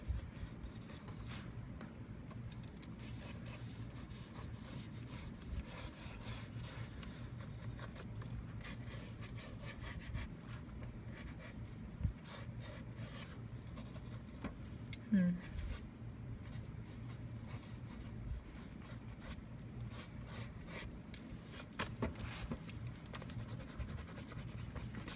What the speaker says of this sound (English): And this girl's going to have a braid, so I'll just roughly sketch that.